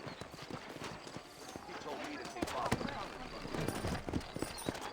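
Horse hooves clip-clop unevenly on hard ground in the video game Red Dead Redemption, with someone speaking over them, all at moderate volume.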